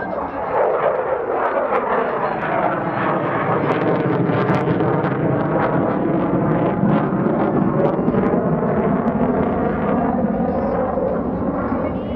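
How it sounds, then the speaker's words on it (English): An F-16CJ Fighting Falcon fighter jet flies past at an airshow, its loud, broad jet roar sustained and swelling steadily for the whole stretch with no pause. "He will cross the runway at 500 feet, perform a rolling pitch up as he turns the downwind leg of the landing pattern."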